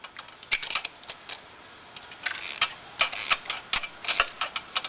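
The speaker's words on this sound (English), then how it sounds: "ratchet wrench here" A ratchet wrench tightens a motorcycle chain pressure bolt in a rapid series of crisp, close clicks that come in uneven bursts with short pauses between strokes, and no one speaks.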